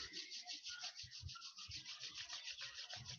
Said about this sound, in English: Rub your hands a little bit.